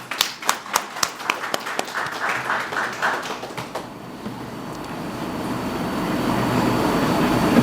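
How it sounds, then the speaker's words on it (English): Clapping at a grand opening ceremony for a NICSE centre at City Tower, starting as a few loud, separate near claps in a rhythmic beat, then blurring into softer general applause that thins into room noise. "Let's clap."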